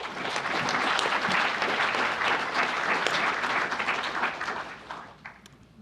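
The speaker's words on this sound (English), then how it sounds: "if you could all give Matt Swoboda a big applause" A demoscene conference audience gives a speaker a big round of applause, a dense, loud wash of clapping that holds steady, then thins out and fades near the end.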